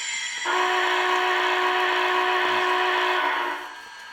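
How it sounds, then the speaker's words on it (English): An MTH Big Boy model steam locomotive sounds its whistle in one long, steady blast of about three seconds, close and clear, then cuts off. "But going back to the whistle,"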